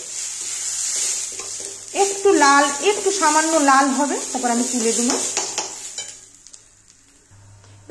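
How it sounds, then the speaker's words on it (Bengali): Moong dal frying in a pan for a Bengali-style dal, with a steady sizzle and hiss and repeated scraping stirs of a spatula against the pan, while someone speaks over it. "মুগ ডালটা একটু ভেজে নিলাম"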